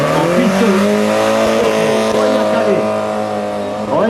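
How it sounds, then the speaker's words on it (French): Race cars run on a track at a 2011 Satigny event, including a Mazda and a VW Golf, with loud sustained engine roar and shifting revs throughout and brief bursts of tire squeal. "Gianluca Macculi sur la Golf en piste"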